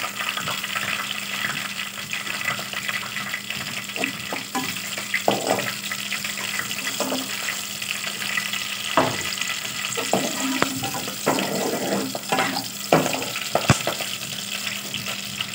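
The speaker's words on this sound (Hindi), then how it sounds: "इसमें घी में 2 चम्मच मिर्च डाल देते हैं, इसको हल्का फ्राई कर देते हैं।" Chilies fry lightly in hot ghee in a pan, making a continuous soft sizzle and hiss with scattered small crackles and pops.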